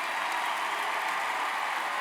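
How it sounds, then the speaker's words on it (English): A large commencement crowd in a university coliseum applauds the graduates' parents, a dense, steady wash of many hands clapping at a distance with no breaks. "Give them a round of applause."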